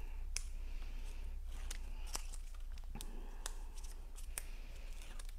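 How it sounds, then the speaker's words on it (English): Backing tape being peeled off a piece of craft card at a crafting table: a close series of sharp, dry crackles and clicks spread unevenly over a few seconds, with no voices. "just going to take the tape off the back here."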